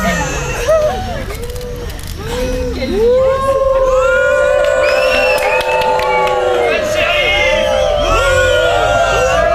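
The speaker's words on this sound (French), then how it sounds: "la foule est en liesse" During a stage performance of a Robin Hood play, a jubilant crowd cheers and shouts, the roar of many voices building and staying loud and close, with individual whoops rising above the din.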